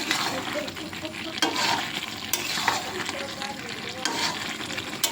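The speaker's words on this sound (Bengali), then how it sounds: "এখন মাংস রান্না হচ্ছে। কাঁচা লঙ্কা দিয়ে করা হচ্ছে।" Meat with green chillies sizzles and fries in a pan, with steady crackling and occasional scraping stirs of a utensil, close and continuous.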